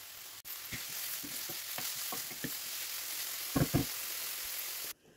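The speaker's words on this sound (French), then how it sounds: "un petit filet d'huile d'olive et je rajoute mes oignons" Chopped onions sizzle in hot olive oil in a pan, a steady broadband frying hiss with scattered stirring clicks and a brief louder scrape near the end, close and fairly quiet.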